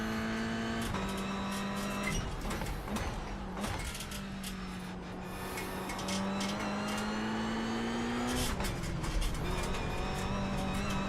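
A Mazda MX-5 race car laps Lime Rock Park, its engine droning steadily at high revs with a gear change and a rising pitch, close and loud from inside the car.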